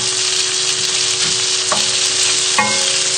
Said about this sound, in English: just finish off cooking the sausages, and just to sort of cook out the raw garlic taste of the pesto